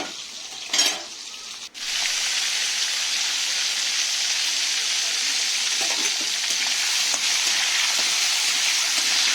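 Potatoes frying in oil in a pan for a Bengali cabbage dish. A couple of brief clatters come first, then a loud, steady hiss of sizzling oil fills the rest of the clip.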